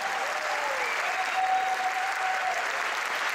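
Steady, dense applause from a large audience, continuous and fairly loud throughout without pause.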